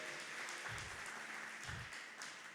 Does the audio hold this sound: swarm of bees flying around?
no